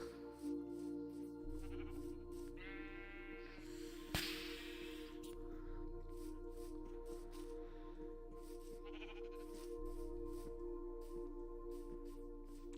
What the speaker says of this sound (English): how is there so many sheep around here?